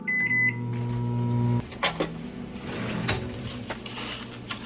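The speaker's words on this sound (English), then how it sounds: "Microwave this." Microwave oven heating a tortilla, with a steady loud hum that cuts off abruptly partway through, followed by clicks and clunks of the door and handling in a quiet kitchen.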